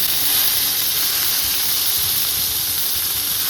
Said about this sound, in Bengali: এবার আমি এর মধ্যে দিয়ে দিচ্ছি টমেটো।